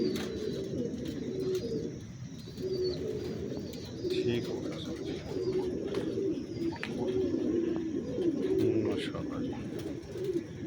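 Pigeons at a breeding setup coo in repeated soft, low rolling phrases, close and continuous, while someone speaks briefly over them.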